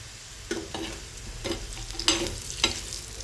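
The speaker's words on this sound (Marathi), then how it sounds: "कांदा 2 मिनिटं परतून घेऊ, नंतर खोबरं टाकायचं आहे" Onion and grated coconut being sautéed in a pan for a Maharashtrian dal, with a steady sizzle under repeated scraping stirs of a spoon, close and moderately loud, no voices.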